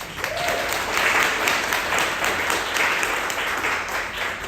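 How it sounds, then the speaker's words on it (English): An audience at a sustainable events talk giving a round of applause, steady dense clapping from a room of people lasting throughout, moderately close. "Let's give a round of applause to her."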